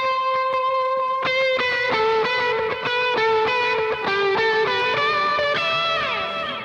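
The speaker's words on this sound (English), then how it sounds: "the fun sound in this one's a vibrato" Electric guitar with a vibrato effect, sustained chords and notes wavering steadily in pitch, played loud and close with drive and delay, ending in a pitch-bending swoop.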